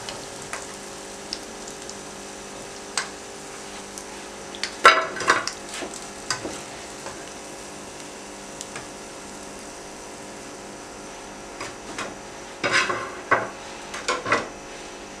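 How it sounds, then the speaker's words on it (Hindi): Bread slices frying in hot oil, a continuous soft sizzle broken by several bursts of louder crackling and utensil scraping as the pieces are stirred or turned. "दोबारा फ्राई कर लें बाकी स्लाइसेस को भी इसी तरह से।"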